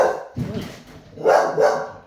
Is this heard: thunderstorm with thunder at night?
no